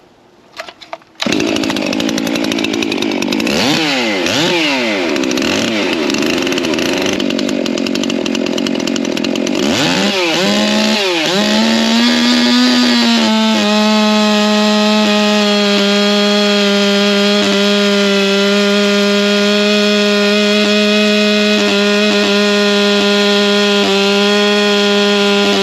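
A chainsaw with a 20-inch bar is revved several times, then bites into wood with a loud, sustained, buzzing roar that stays close and steady throughout a long timed cut.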